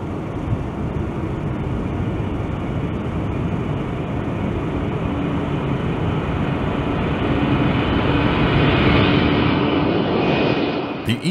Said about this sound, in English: the pilots enter the cockpit, start the engines, taxi the aircraft towards the runway